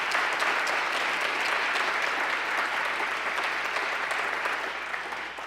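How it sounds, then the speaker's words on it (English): Steady audience applause at a 100th birthday celebration in Little Rock, a dense even round of clapping throughout that fades slightly at the close. "So give her another round of applause."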